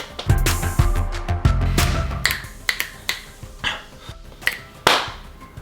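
Sharp hand claps ring out in a kitchen as recording starts, a loud burst of claps early on followed by several separate, spaced claps and snaps over the next few seconds, with no talking.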